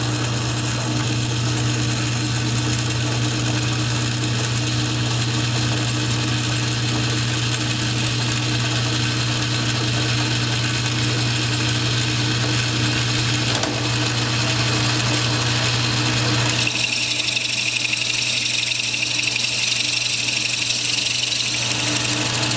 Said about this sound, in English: So if you speed up the lathe, right?